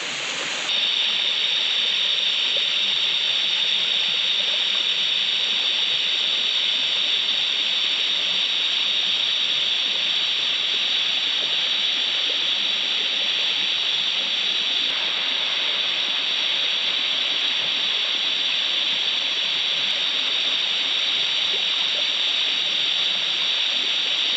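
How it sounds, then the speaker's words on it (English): Cetti Falls in Guam pours into a pool, a steady loud hiss of falling water that stays constant and close throughout, with no talking. "Love this waterfall."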